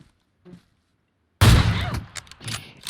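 Gunfire in the mobile battle-royale game PUBG Mobile: after a near-silent pause, a sudden loud burst of rapid shots erupts, then several shorter bursts crackle and trail off.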